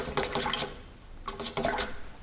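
A paintbrush is swished and rinsed in a cup of water during a painting class, giving a few short bursts of splashing and sloshing close to the microphone.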